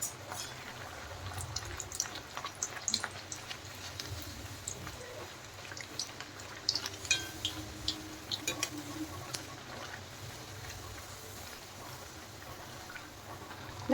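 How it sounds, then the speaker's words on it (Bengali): Dal puri fries in hot oil with a steady, soft sizzle and scattered crackles and pops throughout, at close range and moderately quiet. "এখন আমি ভেজে নিচ্ছি পুরিগুলো।"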